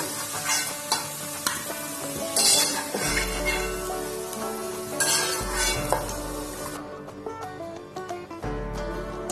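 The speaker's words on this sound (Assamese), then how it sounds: "মোৰ আলু ভজা হৈ গ'ল। মই এয়া এতিয়া কাঢ়ি লম।" Fried potatoes crackle and sizzle in hot oil as a spoon stirs and lifts them out, with scraping and clinks against the pan over a continuous bubbling hiss and a low hum in places.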